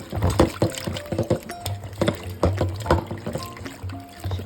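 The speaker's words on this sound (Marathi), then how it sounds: "असं दोन पाण्या स्वच्छ धुवून चाळणीमध्ये निथळत ठेवूया" Dried Bombay duck fish being washed by hand in a vessel of water, with close, rhythmic sloshing and splashing and several distinct plops and swirls.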